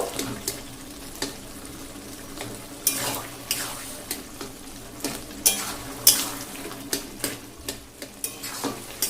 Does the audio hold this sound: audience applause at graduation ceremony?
no